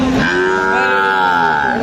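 A cow at a border cattle market in Joypurhat lets out a single loud, drawn-out moo close by, with no talk over it.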